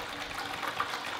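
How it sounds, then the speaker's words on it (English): Water from a tap runs steadily into a cooking pot, a continuous broadband gushing and splashing at close range with no talk, heard while making fettuccine pasta. "So I'm putting my water in here, just like this."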